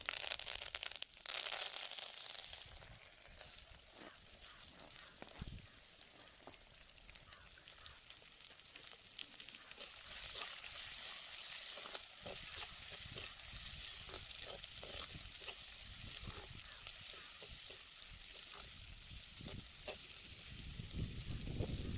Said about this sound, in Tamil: கருவேப்பிலை பொரிஞ்சதும் வெங்காயம், மிளகாயை சேர்த்து நல்லா வதக்கி விடலாம்